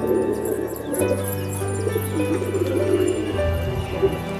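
A wild pigeon perched nearby gives soft, low cooing, a steady murmuring drone that runs through most of the moment over faint outdoor background noise.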